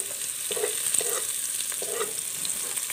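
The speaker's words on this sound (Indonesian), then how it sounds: "Tumis dulu, hingga harum" Garlic and bird's eye chili sautéing in hot oil, a steady hiss of frying with occasional stirring taps and scrapes of the spatula, close and without talk.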